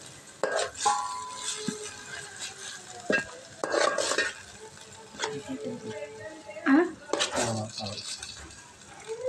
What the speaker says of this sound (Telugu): ఇప్పుడు మనం ఇదిగోండి మటన్ అయితే వేసుకోవాలి